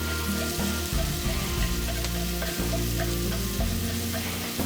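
Aromatics sauté in a pot for Irish lamb stew, a close, continuous sizzle and crackle with faint stirring scrapes and no one talking.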